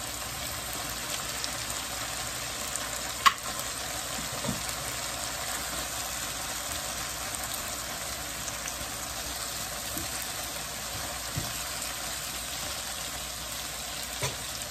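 Pork belly sizzles and spits steadily in a pan, a continuous close crackling hiss with occasional louder pops throughout.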